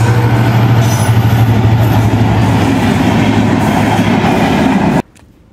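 A train runs by on a railway line right beside a rural cattle market, a loud continuous rumble and rattle of wheels and wagons close by that cuts off abruptly near the end.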